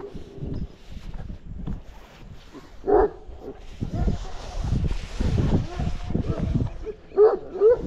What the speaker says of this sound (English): Livestock guardian dog.